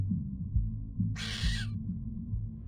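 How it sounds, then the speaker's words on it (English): A shrill bird screech in the game Reverse: 1999 cuts in loudly for about half a second, sitting over steady, pumping low-pitched music that keeps thumping throughout. "The screech of a bird pierces through the pumping music."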